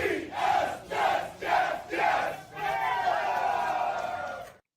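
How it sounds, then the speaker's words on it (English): New York Jets fans pack an indoor bar room, a big crowd chanting in rhythmic shouted bursts, four loud pulses followed by a longer sustained roar that cuts off abruptly. "here's an angle of one of the Jet chants that you led, Ed."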